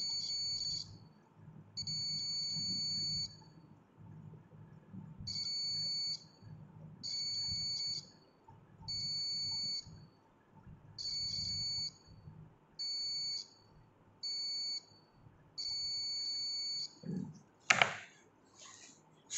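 A multimeter gives repeated bursts of high continuity beeps, about eight in a row with short gaps, while an auxiliary switch's terminals are tested, followed by a brief clatter at the end.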